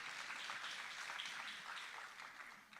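Applause from an audience at a city State of the City address in South Fulton, a steady dense wash of clapping that holds for a few seconds, fairly distant and soft, then begins to fade.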